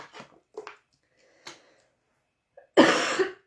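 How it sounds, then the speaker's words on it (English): One loud, close cough bursts out near the end, after a few soft rustles and small mouth or breathing noises. "I've had this cough and it won't go away."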